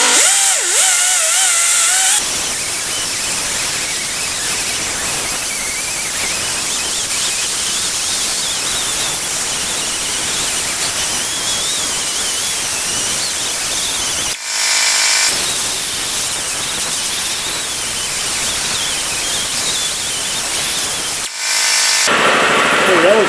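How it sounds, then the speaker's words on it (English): A power tool spins a brown cookie abrasive wheel against the brake hub face of a 1997 Audi A4, making a loud, steady grinding whine that runs for long stretches with two brief pauses. "got a brown cookie wheel."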